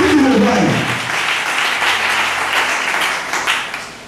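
A church congregation breaks into sustained applause during a French sermon, steady dense clapping filling the room for the whole four seconds, with a voice briefly audible at the start.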